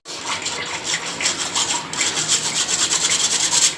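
Flour and baking soda for a banana cake shaken through a sieve, a steady rhythmic scratchy rubbing, close and continuous.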